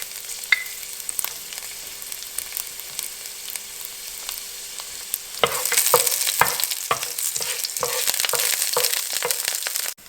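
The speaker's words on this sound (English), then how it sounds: "you're meant to just wait until the garlic pieces are golden brown" Garlic pieces fry in a fry pan with a soft, steady sizzle that jumps louder about halfway through, joined by quick scraping and stirring clicks, no voices.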